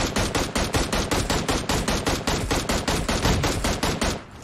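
Rapid automatic rifle fire, from an M16 in a shooter video game: a long burst of evenly spaced, sharp shots roughly every fifth of a second, loud and close, ending abruptly with a short fading tail.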